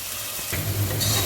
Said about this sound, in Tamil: ஒரு நிமிஷம் மட்டும் தக்காளி வதங்கட்டும்